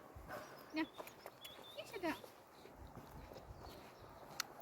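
A black dog barks a couple of times outdoors, short sharp yelps at a moderate distance, with faint movement and background noise.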